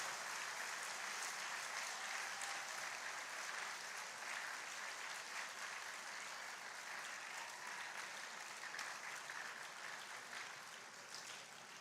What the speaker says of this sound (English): I request all of you to give a loud applause to all of them.